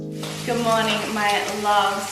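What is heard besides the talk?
bacon sizzling in a frying pan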